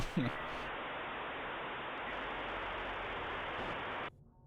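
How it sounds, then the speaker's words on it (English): Modem noise in Aegir Rising comes through as a steady, loud hiss of harsh static with a brief chirp at the start, holding constant for about four seconds before cutting off abruptly. "Modem."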